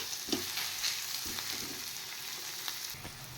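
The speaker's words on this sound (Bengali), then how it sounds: "এবার দেবো কুচিয়ে রাখা পেঁয়াজ, এবার দেবো কুচিয়ে রাখা কাঁচা লঙ্কা। এটা একটু ভালো করে ফ্রাই করে নেব।" Chopped onion and green chili frying in hot oil with nigella seeds, a steady close sizzle with a few soft stirring scrapes.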